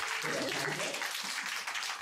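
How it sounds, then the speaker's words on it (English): Audience at a university student election event applauding the School of Arts and Social Sciences, a dense wash of clapping heard somewhat distantly with a few voices murmuring underneath. "can we give a round of applause to the School of Arts and Social Sciences?"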